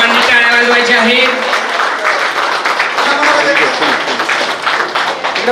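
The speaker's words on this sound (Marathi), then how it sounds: "सर्वांनी टाळ्या वाजवायच्या आहेत." An audience at a reunion get-together claps together during a felicitation, a steady wash of applause that runs for several seconds, with voices speaking over it.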